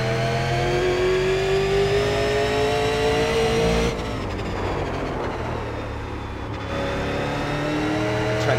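A stock super late model car races in the iRacing sim at Thompson, its engine droning loud and near with a rising pitched whine that cuts off abruptly, then returns after a short lull.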